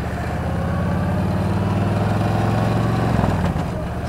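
A Buell Blast motorcycle engine thrums steadily and loudly while being ridden on a road, with a constant low, pulsing drone and slight wind rush, no talking.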